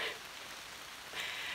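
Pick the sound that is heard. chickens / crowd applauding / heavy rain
heavy rain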